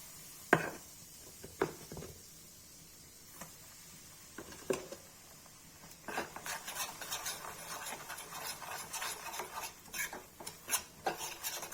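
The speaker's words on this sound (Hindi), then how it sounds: "तेल गरम करके चढ़ा दिया, इसे डाल देंगे बेसन" Gram flour being stirred and roasted in hot oil in a pan, heard as scattered scraping and rubbing strokes of a utensil, with sparse isolated scrapes at first and then a denser run of rasping stirs in the second half.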